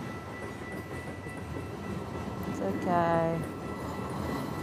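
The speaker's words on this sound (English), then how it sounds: "I'm stuck here for 15 minutes because of the train." A long freight train rumbles past with a steady low roar and a brief horn-like tone in the middle; a person says a few words over it.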